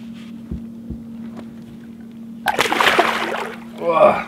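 A small wolffish caught at sea off Havøysund, Norway, is let go into the water with a short burst of splashing and sloshing, close by, after a quiet stretch with a steady boat hum.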